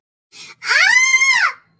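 A woman in a horror story lets out a short gasping breath, then a loud, high, sustained scream lasting about a second, close and alone.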